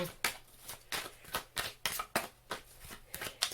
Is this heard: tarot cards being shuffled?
yes